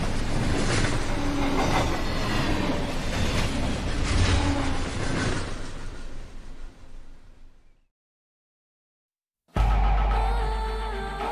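A Union Pacific train in the Run 8 V3 simulator rolls steadily along the Roseville Subdivision tracks with rhythmic wheel clatter and occasional squeal, loud and continuous, then cuts to silence before resuming abruptly.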